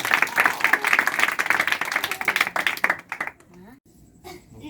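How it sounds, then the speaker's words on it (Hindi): An audience at a church gathering claps loudly in a rapid, dense burst for about three seconds, then it fades as a voice begins speaking. "खुदाम के जलाल के लिए जोरदार ताली।"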